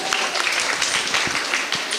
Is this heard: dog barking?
no